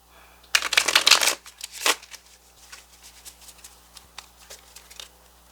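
Tarot cards being shuffled by hand, a dense burst of riffling and flicking that stops and returns as a shorter flurry, then trails off into light taps and slides.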